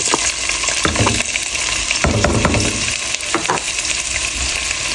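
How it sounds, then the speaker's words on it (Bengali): Onions and three tomatoes fry loudly in oil left over from frying fish, a dense close sizzle broken by several stirring scrapes and clatters, with no voices. "পেঁয়াজটা আমি বালা কইরা লাল লাল করে ভাজি লাইছি"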